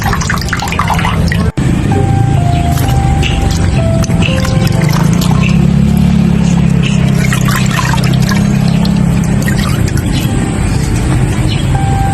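Cool water is poured and splashes while a cloth fomentation for a feverish patient's head is prepared, a loud, continuous trickling and dripping with a steady low rumble underneath.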